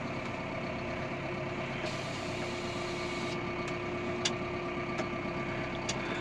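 A Massey Ferguson 5S tractor idles with a steady low diesel rumble and a constant drone, running evenly throughout with a few faint clicks near the end.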